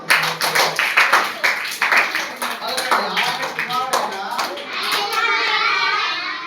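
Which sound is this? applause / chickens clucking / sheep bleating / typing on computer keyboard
applause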